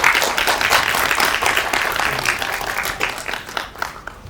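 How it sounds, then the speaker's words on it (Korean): Warm applause greets a film director and a young boy taking their seats at a press screening Q&A, a loud, dense burst of crowd clapping that thins toward the end. "따뜻한 박수로 맞아주시기 바랍니다."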